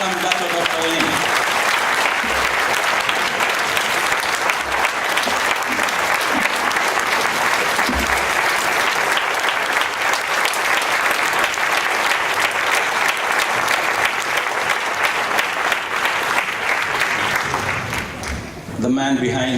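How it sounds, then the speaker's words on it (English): Sustained applause from a large audience at a company event welcoming a guest of honour, loud and dense for most of the stretch before tapering off near the end. "Please give a big round of applause"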